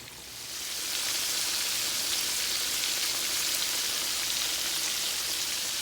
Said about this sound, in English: I wish y'all could smell this chicken frying.